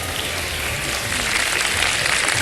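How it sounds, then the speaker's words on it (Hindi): A TV studio audience applauds steadily, a dense wash of clapping at an even level throughout with no voices over it. "तालियां बजा दें इनके लिए"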